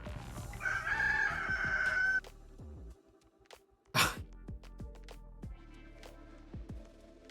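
A person imitates a rooster crowing with a sustained, strained vocal cry lasting about two seconds, followed by a sharp burst and scattered clatter in the background.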